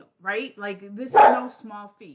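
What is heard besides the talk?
dogs barking in the background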